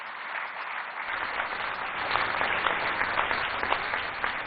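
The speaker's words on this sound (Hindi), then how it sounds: "हमारे एक बार सभी विजेताओं के लिए जोर से तालियां हो जाएं।" An audience at an awards summit gives the winners a sustained round of applause, a dense, even patter of many hands that swells after the first second and holds strong to the end, with no talk over it.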